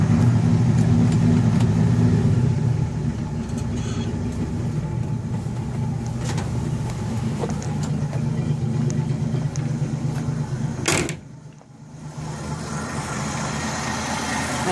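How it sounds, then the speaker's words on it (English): A 1967 truck's straight-six engine runs cold at idle, a low steady rumble heard up close, with a brief sharp clatter near the end before the idle settles back in. "Not bad running little engine."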